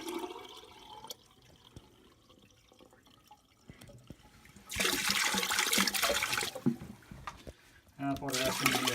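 A toilet at a lakehouse being winterized, with antifreeze poured into the tank, flushes with a loud rushing and gurgling surge about halfway through and again at the end, after quieter drips and a voice speaking.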